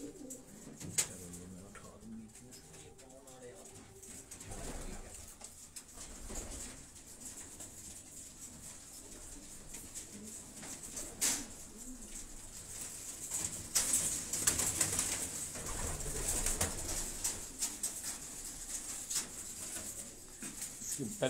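Pigeons coo faintly in the background among quiet ambient noise and occasional bumps, with low soft calls recurring across the whole stretch, distant rather than close.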